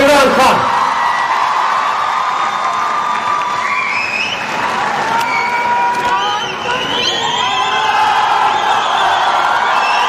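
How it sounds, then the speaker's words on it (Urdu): Crowd cheering, whooping and shouting loudly as a hall audience welcomes Prime Minister Imran Khan on stage at a launch event, a dense, continuous roar of voices with applause mixed in. "ہاتھ اٹھا کے تالیوں کی گونج میں استقبال کیجیے وزیر اعظم عمران خان."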